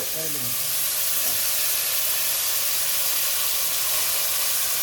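Drumstick pieces and mango frying in a pan for Tamil Nadu style mango sambar, a steady loud hiss and sizzle with faint voice briefly at the start.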